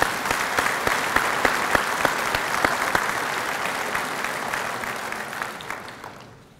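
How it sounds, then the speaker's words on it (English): Banquet audience at an agricultural cattle-genetics anniversary celebration applauds steadily, a dense wash of many hands clapping for several seconds before fading out at the end, with no talk over it. "Let's give our industry partners a round of applause."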